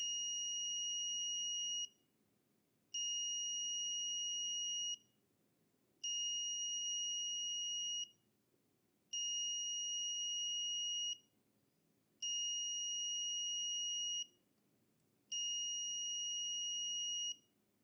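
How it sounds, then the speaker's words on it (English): An Arduino temperature alarm buzzer sounds a critical-temperature warning in steady repeating pulses, six long tonal beeps of about two seconds each with short gaps, shrill and constant. "This audible alarm serves a warning that the temperature has reached a critical level."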